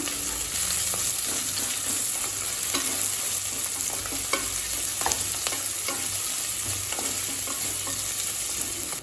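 Onion sizzles in hot oil in a pan for potato rice, stirred with repeated scraping strokes, close and steady throughout.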